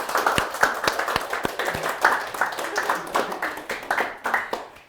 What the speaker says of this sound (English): Round of applause, please, for Alan.